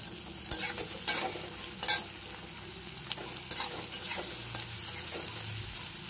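Onions frying in mustard oil hiss steadily while a spoon stirs them in the pan, with several sharp scraping strokes standing out through the sizzle. Nobody speaks.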